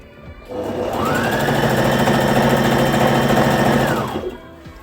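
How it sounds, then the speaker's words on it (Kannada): A sewing machine stitches around the hem of a man's ready-made trousers during an alteration, running in one steady, continuous loud burr for about three seconds before stopping. "ಹೀಗೆ ಇಟ್ಕೊಂಡು ನಾನು ಸ್ಟಿಚ್ನ ಹಾಕ್ತಾಯಿದ್ದೀನಿ"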